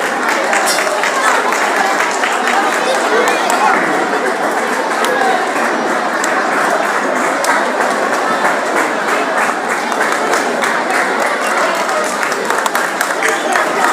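Audience applause at a school Teachers' Day event, steady dense clapping that holds for the whole stretch without a break.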